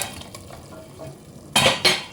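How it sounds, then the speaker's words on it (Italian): Meat goes into a pot for Hungarian goulash soup, giving two loud, bright bursts of sizzle and clatter near the end, preceded by softer kitchen handling noises; no one talks. "A questo punto possiamo mettere giù anche la carne"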